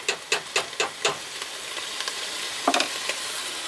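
Onion and celery cooking down in a chili pot, a soft continuous sizzle and hiss broken by a run of sharp rhythmic scraping stirs at the start and a few more near the end.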